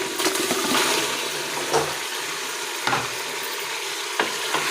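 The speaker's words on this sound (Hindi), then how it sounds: "अब हम इसमें गोश्त डालेंगे।" Meat drops into hot spice masala in a pressure cooker and sizzles in a loud, hissing wash, with a few scraping stirs and clinks in an Afghan namkeen rosh cooking session.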